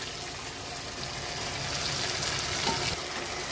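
Poppy seed and mustard paste with green chilli being stirred into katla fish curry frying in a pan, a steady close sizzle with scraping stirring throughout.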